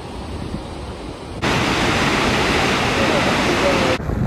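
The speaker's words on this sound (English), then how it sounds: "Started off the day looking at Kepler Cascades." Kepler Cascades waterfall in Yellowstone pours in a dense, loud hiss that cuts in abruptly after a quieter stretch and stays steady for a few seconds before dropping away again.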